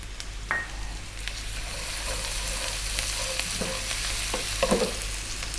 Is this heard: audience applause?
no